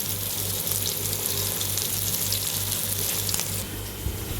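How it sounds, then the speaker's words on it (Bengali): Fish frying in a pan, a steady close hiss and sizzle of hot oil running without pause, with a low hum underneath and no talking. "আমি মাছ ভাজি বসিয়ে দিলাম"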